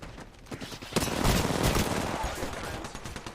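Rapid bursts of automatic gunfire in a shooter video game, dense and continuous, growing louder midway and sustained to the end with no talk over it.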